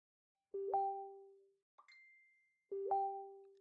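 A phone plays message notification chimes: a plucky two-note tone, a thin high ping, then the plucky tone again, clean and fairly quiet with silence between them.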